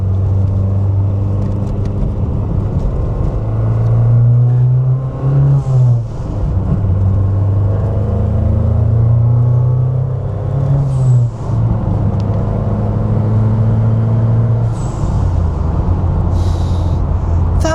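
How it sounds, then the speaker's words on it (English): A loud Ford Sierra Cosworth engine rumbles and revs steadily, with short airy hissing whooshes from a turbo blow-off valve breaking through near the end. "That blow-off valve noise is absolutely ridiculous."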